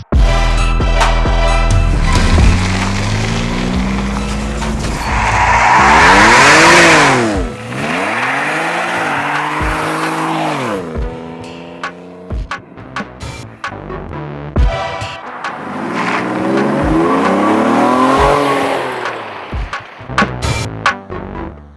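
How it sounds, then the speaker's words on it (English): A Mallett-supercharged Chevy Colorado ZR2 pickup engine revs hard and accelerates past, with repeated rising and falling roars and gear changes, loud and close. "we're gonna take this Chevy Colorado Mallet Supercharged for a drive"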